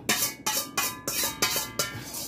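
A metal spoon scrapes leftover chicken pot pie filling out of a pan in six sharp, evenly spaced strokes, each one a loud, close scraping rasp with no talking.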